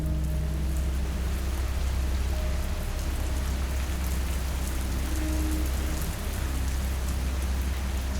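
Steady, dense rainfall drums down on a forest path at night, an even hiss of drops with no letup and no voices.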